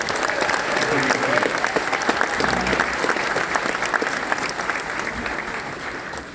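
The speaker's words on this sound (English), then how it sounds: "I'd like you to give yourself a round of applause" Sustained applause from an audience fills a lecture hall in the Round Room of the Mansion House, Dublin, a dense, steady clapping that slowly fades toward the end.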